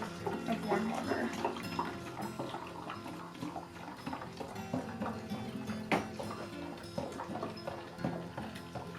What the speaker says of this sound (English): we're going to dilute it with 2 cups of warm water